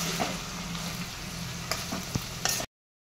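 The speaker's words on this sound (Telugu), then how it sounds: "మధ్య మధ్యలో కలుపుతూ ఫ్రై చేస్తూ ఉండాలి" Ivy gourd (dondakaya) fries in oil in a pan, a steady close sizzle broken by a few scraping knocks as it is stirred, then the sound cuts off.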